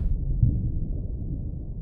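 Low distant rumbling of a thunderstorm at sea in the sailing game Sailwind, a deep continuous growl with a slightly stronger swell near the start and no voices.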